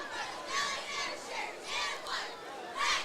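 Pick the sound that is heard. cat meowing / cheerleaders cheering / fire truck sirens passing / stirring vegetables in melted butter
cheerleaders cheering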